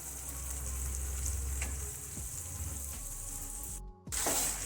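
A pan sizzles steadily as saag greens fry in a tempering and are stirred with a few scrapes, the hiss briefly cutting out before flaring up louder near the end.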